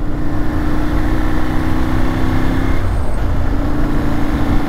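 A 2006 Ducati Monster S4RS on the road, its engine droning loud and steady with a firm low note that briefly shifts pitch mid-ride, wind rush layered on top, no talk.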